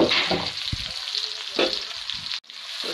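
Garlic and onion fry in a hot pan, a close, steady sizzling hiss with soft scraping stirs and a brief knock, running without talking.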